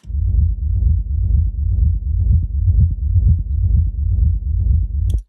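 A deep, repeating techno kick drum thumps at a steady pulse, layered with a low booming bass, loud and unaccompanied until it cuts off.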